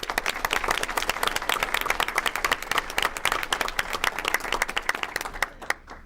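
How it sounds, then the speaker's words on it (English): An audience at a Livonia Public Schools board meeting gives a round of applause, with crisp individual claps packed close together that thin out and stop near the end. "Would you join me once again in giving one final applause?"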